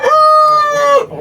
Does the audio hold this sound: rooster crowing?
yes